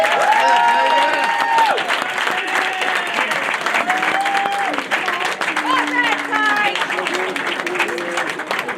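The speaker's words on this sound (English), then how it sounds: "I think they should all have a round of applause for everybody." An audience applauds at a football club's senior awards presentation, sustained loud clapping with cheers and whoops, while voices chatter through the crowd.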